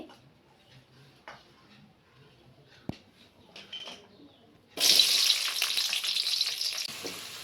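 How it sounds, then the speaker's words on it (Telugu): Onions drop into hot oil with a sudden loud burst of sizzling that continues steadily, following several seconds of faint kitchen clinks and a sharp knock. "ఉల్లగడ్డలు అయితే వేసుకుందాం మరి"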